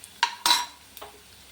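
Onions frying golden in oil, stirred with a utensil: two sharp scraping clanks close together, then a softer tap over a faint low sizzle.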